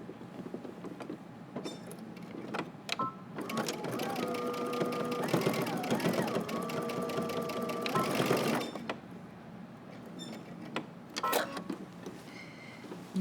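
A sewing machine stitches a jacket seam at 5/8 inch seam allowance, a steady close whirring run of several seconds framed by quieter handling noises and a brief voice.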